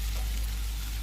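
Spice tempering sizzles in hot oil in a pan for a ridge gourd and sev curry, a steady close broadband hiss lasting about a second with no other sounds.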